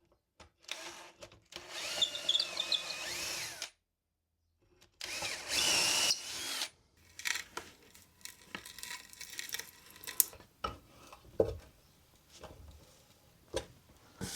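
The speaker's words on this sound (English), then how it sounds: "So now I can drill through these holes into the top and get the insert" Power drill boring holes into a wooden coffee tabletop for threaded inserts, two loud bursts of drilling separated by silence, followed by quieter handling and scraping noises.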